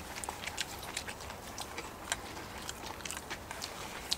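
Crunchy chewing of crispy pork belly grilled on a cast-iron lid close up, a quick series of crisp bites and crackles repeating steadily over a quiet background.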